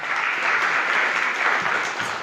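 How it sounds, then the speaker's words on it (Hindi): Hearty audience applause at a cow-protection awareness event at Jiwaji University in Gwalior, a dense, even roar of clapping from a large crowd, close and loud for its full short length. "जोरदार तालियां।"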